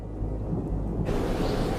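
A thunderstorm over the Lau islands in the Pacific, deep rolling thunder under steady heavy rain, swelling into a broad rushing roar partway through.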